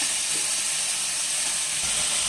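Banana stem pieces frying in hot oil tempered with nigella seeds and dried chilli, a steady, bright, continuous sizzle heard close and alone.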